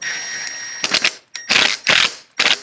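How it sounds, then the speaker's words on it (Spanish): Plastic screws being driven by hand into the plastic charcoal canister of a 2005 Mini Cooper S, several short, close scratchy ratcheting bursts separated by brief pauses. "y ahora vamos a atornillarlo"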